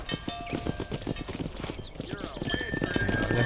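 Horse hooves galloping in Red Dead Redemption while driving cattle: rapid, rhythmic clip-clop close by, mixed with a snort and whinny, under a voice calling out.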